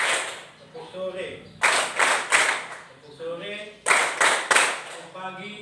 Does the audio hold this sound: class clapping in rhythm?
yes